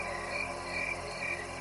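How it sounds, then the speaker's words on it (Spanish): Crickets and other insects chirp and buzz steadily through a night in a cemetery, a continuous soft pulsing drone heard alone at moderate distance. "al zumbido de los insectos"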